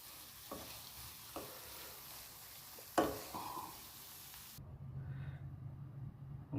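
Spoon stirring carrot halwa in a pan once the milk has cooked off: a few soft scrapes and one sharper knock over a low sizzle, then a quieter, steady hiss.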